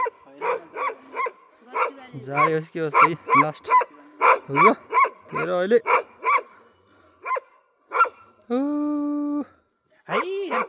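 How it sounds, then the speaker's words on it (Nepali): A Bhote dog at a high herders' shed barks in a rapid series of sharp, loud barks, some near and some echoing, while people call out and talk in between. "यो माथि लास्ट गोठको जारे भुक्यो"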